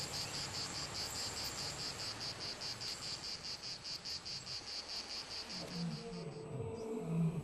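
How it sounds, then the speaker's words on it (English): Cicadas in a garden setting on Koh Samui, Thailand, buzzing loudly in a rapid pulsing drone that holds steady throughout, close and dominant, fading near the end. "The noise of cicadas is here deafening."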